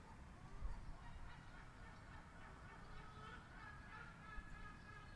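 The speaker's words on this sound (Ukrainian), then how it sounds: "То не качки, то чайки там." Gulls calling at a distance over steady outdoor ambience and low rumble in Kavala, Greece, with cries repeating intermittently throughout.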